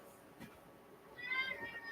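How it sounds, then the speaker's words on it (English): A cat meows once softly nearby, followed by faint background sounds in an otherwise quiet room. "cat just came in and meows and then wants to go right back out"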